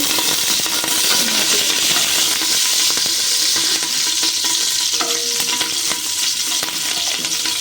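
Curry leaves frying in hot oil in a pan while being stirred, a steady loud crackling sizzle with scraping stir strokes throughout, no talking.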